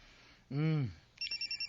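A cellphone ringtone sounds in quick, regular electronic pulses with a bright tone, close and fairly loud, after a short burst of voice.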